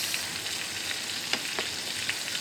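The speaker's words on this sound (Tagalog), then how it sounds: "Fry ko lang sa butter" Shrimp, sliced down the middle, sizzle and fry in butter in a pan, a steady close crackle with a few sharper pops and no talking.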